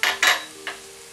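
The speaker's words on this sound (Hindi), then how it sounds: "अब हम इसमें सब्जियां डालेंगे, फ्रेंच बीन्स डालेंगे" Vegetables such as French beans going into a pan of masoor dal pulao, three quick clattering bursts of food and utensil against the pan, close and fairly loud, then quiet.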